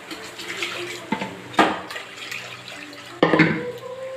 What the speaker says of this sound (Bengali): প্রেসার কুকারে যে কলাইটা লেগেছিল সেটা জল দিয়ে এখানে দিয়ে দিলাম